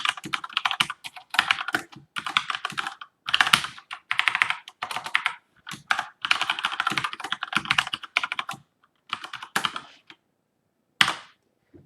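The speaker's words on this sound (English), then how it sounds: "that's my mechanical keyboard if you can hear it" A mechanical keyboard clatters close by in bursts of fast clicky keystrokes, broken by short pauses and a few louder isolated taps, with no talk over it.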